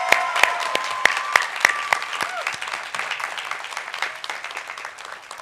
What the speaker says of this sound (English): Let's give a round of applause to Dr. Jim Day, one of our unsung heroes.